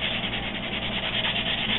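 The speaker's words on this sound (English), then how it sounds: "you can grab your sanding block and get it down pretty fast" Steady, continuous sanding scrapes as a sanding block works medium-grit (about 200) paper across carbon fiber, loud and close, with a rhythmic back-and-forth texture and no talking.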